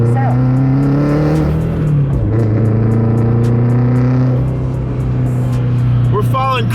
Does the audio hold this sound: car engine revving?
yes